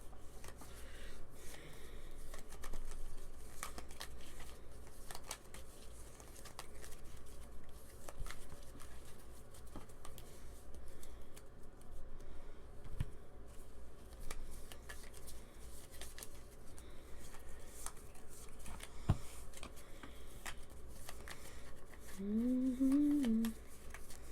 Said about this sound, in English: Time of shuffling cards.